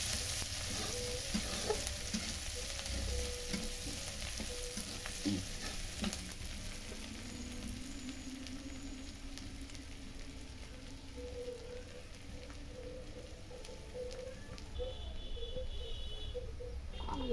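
Sliced onions and green chillies fry in oil in a pan, a soft, steady sizzle with occasional stirring scrapes, heard close but quiet, with no talking.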